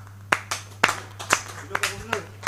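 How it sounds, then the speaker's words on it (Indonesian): Sparse clapping from a small audience at a morning meeting, a handful of separate sharp claps in an uneven rhythm over a low steady hum, thin and fairly close rather than a full round of applause. "tepuk tangan bagi kita semua hari ini"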